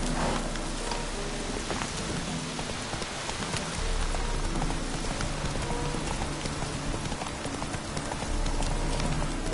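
Hooves of a horse in The Witcher 3 clip-clop steadily in a continuous rhythm, mixed with a rain-like ambient wash and game background sound.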